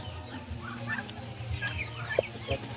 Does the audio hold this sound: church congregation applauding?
no